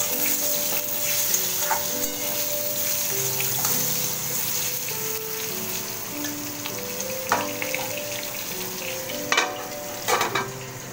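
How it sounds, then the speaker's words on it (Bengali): Potatoes fry in oil left over from frying boal fish, giving a continuous close sizzle and crackle with a few light clinks and stirring sounds toward the end. "ওই তেলের মধ্যেই আমি আলুগুলোকেও ভেজে তুলে নেব।"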